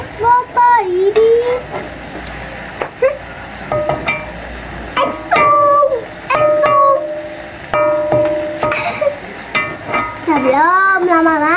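Beef skin fries and is stirred in a pan in a home kitchen, with sizzling and scraping under fairly loud, frequent voices talking over it.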